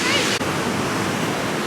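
Ocean surf on a windy, cold beach, a steady broadband wash of waves breaking nearby, loud and continuous with a brief dip early on, no talk heard.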